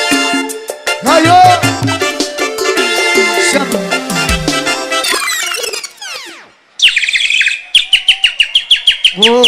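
Loud bird chirp effects ring out at a live funk show in Recife: first over the music, then as sweeping whistled tweets, and finally as a fast run of sharp, repeated chirps.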